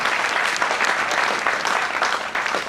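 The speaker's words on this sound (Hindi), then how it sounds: "पारुल जी के लिए जोरदार तालियों से स्वागत करते हैं" An audience at a ChampCash seminar in Delhi breaks into loud, dense applause to welcome a guest onstage, a steady wash of many hands clapping throughout.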